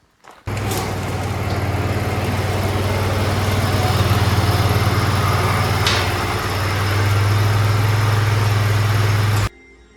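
An OREC RM 980 brush mower with a 23-horsepower twin-cylinder engine runs loud and close, a steady low droning rumble that starts abruptly, holds at even power with a slight shift partway through, then cuts off sharply.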